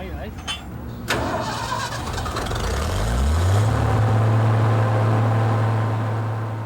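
A Cold War jet engine is started from a ground start cart, a rising whine climbing steadily in pitch over several seconds into a loud, sustained drone, with a clunk and rumble at the start.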